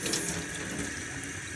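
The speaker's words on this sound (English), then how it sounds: "So now I'm going to rinse all my strawberries." Running tap water pours steadily over strawberries being rinsed in a kitchen sink, a continuous close splashing rush with no talking.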